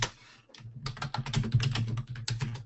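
Keys clack in a quick, uneven run on a computer keyboard while notes are typed, fairly close and clear, with a brief pause near the start and no talking over it.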